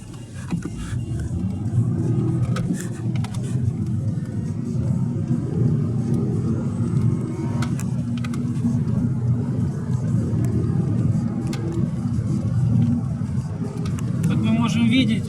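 A Skoda Octavia 1.8 TSI running on petrol gives a steady, loud low engine and road rumble heard from inside the car, unbroken for the whole stretch and with no one talking over it.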